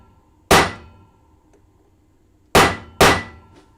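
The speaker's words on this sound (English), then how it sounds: "I'm using a spiral stamp and my stamping hammer" A stamping hammer strikes a spiral metal stamp three times: one loud ringing clang, a pause, then two quick strikes in succession, each decaying briefly.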